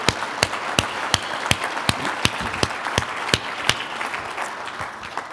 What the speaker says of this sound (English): Let's give both professors one more big round of applause